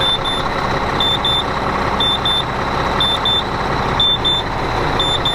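A Ford F350 Powerstroke turbo diesel engine runs in a loud, steady drone, with a repeating pair of high electronic beeps sounding over it every second or so.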